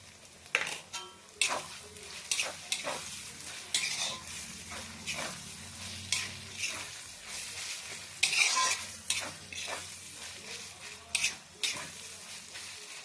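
A spoon stirs carrot and capsicum frying in a pan for pasta, with repeated scraping strokes over a soft steady sizzle and a few clinks against the pan.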